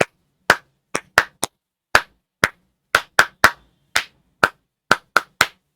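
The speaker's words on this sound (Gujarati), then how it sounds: "3 તાળી આવી રીતે મારી એમ પાડજો." Students in a classroom clapping in unison, about fourteen sharp, crisp claps grouped in quick bursts of three with short pauses between, loud and close in an otherwise quiet room.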